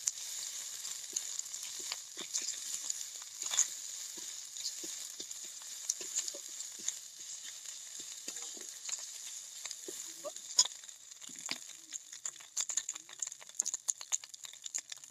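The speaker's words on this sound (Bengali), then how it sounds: "আদাটা দিয়ে আরো একটু ভালোভাবে ভেজে নেব।" Onion, garlic and ginger paste sizzle and fry steadily in a pan for pea ghugni, with a continuous crackling hiss and occasional sharp pops and stirring clicks, no voices.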